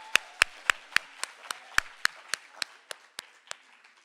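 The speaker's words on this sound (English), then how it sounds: "please another warm round of applause for Busisiwe." Scattered applause for a poet at a poetry festival: about a dozen distinct, sharp claps in an uneven rhythm, loud and close at first, then thinning and fading.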